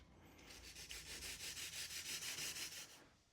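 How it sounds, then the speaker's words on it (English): Rhythmic back-and-forth sanding strokes on the corners of a Gurney flap for a 2016 Porsche Cayman 981 GT4, a steady run of about a dozen quick rasping passes, close and fairly quiet, with no talking. "I'm just going to sand a tiny bit off of each corner and see how that fits."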